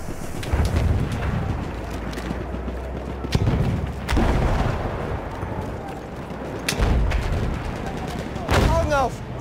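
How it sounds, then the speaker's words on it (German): Battlefield 1 grenade explosion and gunfire: several loud booming blasts spaced a few seconds apart, with rattling shots and battlefield clamor between them, and shouted voices mixed in. "Granate!"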